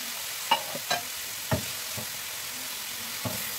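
Chicken breast pieces dropped into a hot pan, a steady sizzle of frying with a few sharp clicks and taps as pieces land and are moved, close up and with no talking.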